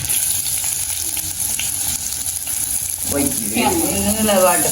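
Mustard seeds and onion frying in oil in a home kitchen, a steady hiss with loud bursts of sputtering and crackling growing stronger near the end, heard close with no talking.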